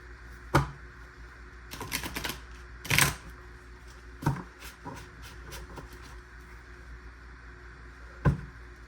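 Playing cards being shuffled and slapped down, with several quick riffling bursts and sharp snaps spaced irregularly, close by in a quiet room.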